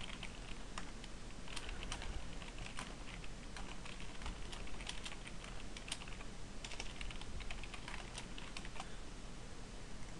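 Rapid key clatter from a computer keyboard as a username and password are entered, a steady run of light clicks with uneven rhythm, close and alone with no talking.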